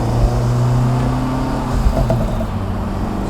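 Acura Integra Type S exhaust with turbo during casual driving, a steady low engine drone with a continuous hum, no sharp revs and no talk.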